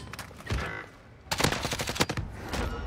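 Rapid automatic gunfire in Call of Duty Warzone, a short burst, a brief pause, then a longer run of close, loud shots in quick succession.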